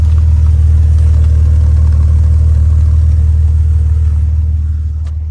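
A deep, steady engine rumble from a turbocharged 2JZ-engined Jeep with its exhaust cut after the second muffler, low and loud throughout while driving, easing off slightly at the end.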